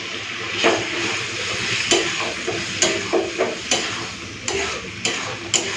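Egg posto gravy with fried eggs simmering and bubbling in a pan, a soft continuous sizzle broken by several sharp clinks and scrapes of a spatula stirring; nearby, no voices.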